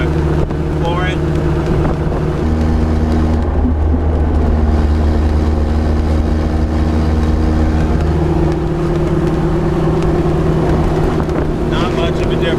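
Truck engine floored in fourth gear at a little over 2,000 RPM, around 50 mph on Milestar Patagonia tires, giving a loud, steady low engine drone with rising tones, mixed with road and wind roar.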